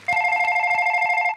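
A telephone rings in a studio setting, a bright repeating electronic warble pulsing rapidly for over a second, loud and close with nothing else heard.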